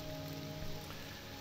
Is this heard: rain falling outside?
yes